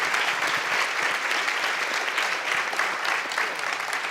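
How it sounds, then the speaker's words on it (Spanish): A conference audience applauds its national and international speakers, a dense, loud, continuous wash of clapping filling the room without a break. "un aplauso para ellos."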